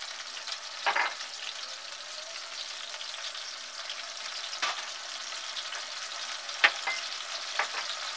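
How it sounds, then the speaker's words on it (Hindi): Spices, tomato puree, coriander powder, salt and chaat masala roasting in a pan for restaurant-style chicken changezi, a steady close sizzle with a few louder scraping stirs and no talk. "इन सबको अच्छे से भून लेंगे हम।"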